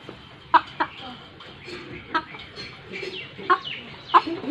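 A rooster in a Bangladeshi village clucks in short separate bursts, five or so spread over a few seconds, close and fairly clear over a quiet outdoor background.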